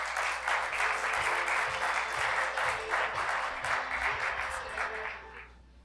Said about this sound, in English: So please, let's give a round of applause to Mr.